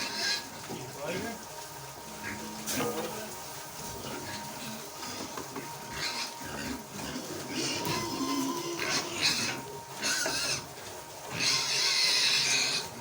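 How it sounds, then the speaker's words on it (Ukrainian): Piglets on a farm grunt and squeal while feed is poured for them, with noisy movement and clattering around the pen and a person talking over the animals throughout. "І будуть їсти поросятка наші, рости потихеньку."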